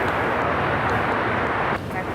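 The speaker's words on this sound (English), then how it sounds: "We're doing that Delta 757-200 flight heading to Atlanta, now rolling down at 25 right" A Delta Boeing 757-200 rolling down runway 25 right at LAX for takeoff, a loud sustained broadband engine roar with a wind-like rush that eases suddenly near the end.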